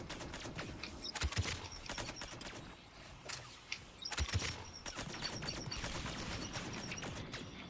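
Talon shotgun fire in Mass Effect 3 booms in repeated heavy blasts over continuous combat noise, with sharp impact peaks spaced a few seconds apart amid a dense, loud firefight.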